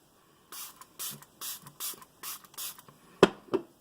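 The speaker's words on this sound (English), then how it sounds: "I will use the Pyunkang Mist Toner." Pyunkang mist toner is sprayed in six short close puffs of fine hissing mist, evenly spaced, followed by two soft handling taps.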